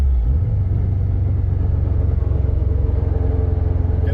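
A Subaru 2.5RS engine rumbles low and steady as the throttle is released while cruising, a close, even drone with a faint rhythmic pulsing and no talking.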